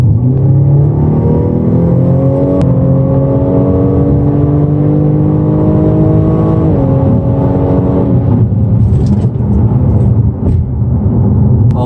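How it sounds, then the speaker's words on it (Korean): A BMW M235i accelerates hard on a test drive, its engine note rising steadily in pitch through the gears, loud and continuous from inside the cabin, with a brief shift dip before climbing again. "안전한 범위 내에서 속도를 좀 내보겠습니다"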